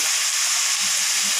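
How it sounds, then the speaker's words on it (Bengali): Potatoes fry in a pan with salt and turmeric, giving a loud, steady sizzling hiss that runs evenly from start to finish with no talk. "এটা এখন হালকা ভেজে নেব।"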